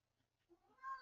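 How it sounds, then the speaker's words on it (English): A hungry house cat lets out a single rising meow close by, arriving abruptly at the end after near silence. "my cat has just told me that it's hungry."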